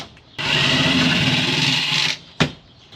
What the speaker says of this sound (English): need to get my drill and take care of that